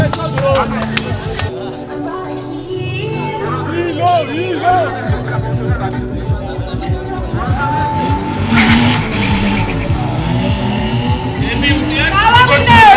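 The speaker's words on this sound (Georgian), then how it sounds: "დებიუტია ილიას უკანა ამძრავ მანქანაზე წყალთარბოლაში" A rear-wheel-drive rally car roars and skids on a loose surface at a pairs race in Tskaltubo, Georgia, tires squealing, while a crowd chatters and shouts over the engine noise.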